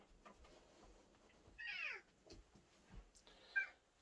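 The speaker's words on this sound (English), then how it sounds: "Where's my cat?" A pet cat meows twice, each call a short rising-falling cry, quiet and fairly close, with faint soft knocks and room noise between.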